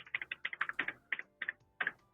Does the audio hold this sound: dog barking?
no